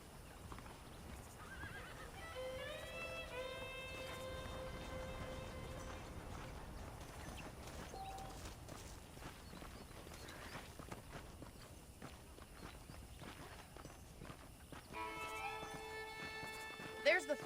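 Horses clip-clop and whinny in the Western video game Red Dead Redemption, steady hoofbeats running throughout beneath game music, with a spoken voice over the top.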